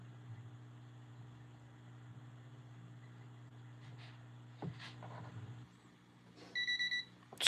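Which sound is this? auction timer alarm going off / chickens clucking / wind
auction timer alarm going off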